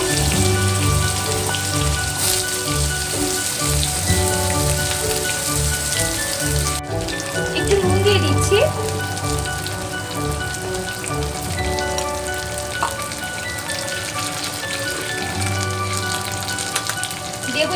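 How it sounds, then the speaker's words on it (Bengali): Potatoes fry in hot oil for a Bengali pumpkin curry, giving a continuous, even crackling sizzle like steady rain that keeps going at a constant level with no talking. "এবার আমি আলুগুলোকে ভেজে নেব।"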